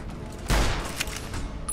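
A single sharp gunshot blast in a video game stands out over a steady busy background, followed by a fainter pop about half a second later.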